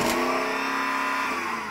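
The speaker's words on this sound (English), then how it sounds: "So I'm going to rev up this one," A naturally aspirated V8 engine in an off-road SUV revs hard and close, a loud sustained roar with a strong harmonic whine that rises briefly and then holds steady.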